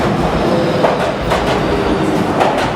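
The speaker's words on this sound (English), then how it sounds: "That sound right there, by the way, that was the Inokashira line." An Inokashira Line train passes nearby in Shimokitazawa, Tokyo, its loud, continuous rumble of wheels on rail carrying through the whole stretch with faint clickety-clack, and no one talking.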